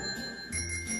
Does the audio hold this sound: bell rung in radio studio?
yes